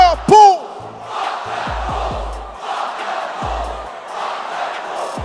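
A crowd at a press conference shouts and jeers in a sustained, rowdy roar, loud and fairly close, with a few sharp whoops early on.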